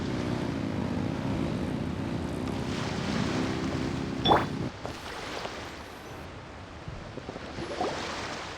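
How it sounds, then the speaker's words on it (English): Ship engines revving in Genshin Impact: a steady droning engine rumble with washing water for about four seconds, then cutting off to a quieter hiss of wind and waves. "Rev the engines!"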